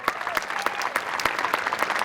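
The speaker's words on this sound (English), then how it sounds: "Yep, more applause there." A crowd applauds at a college presidential inauguration ceremony, a brief burst of many hands clapping with a few sharper individual claps standing out, steady and moderately loud.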